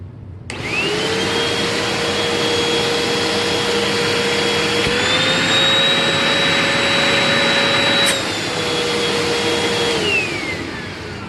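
A Hoover Rewind UH71013 vacuum cleaner runs on an airflow test box, a loud, steady high-pitched motor whine that shifts slightly in pitch midway and then winds down at the end.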